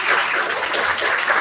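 Audience applause for faculty at a university research-presentation competition event, a steady, dense wash of clapping that holds at even loudness through the short stretch with no talk over it.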